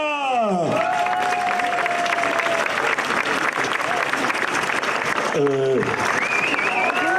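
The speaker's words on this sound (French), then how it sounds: "Je vous demande des applaudissements pour le blond Basse Tietema." Outdoor audience at a Tour Alsace cycling podium applauding and cheering a rider, dense clapping with whoops throughout and an amplified announcer voice at the start and again near the end.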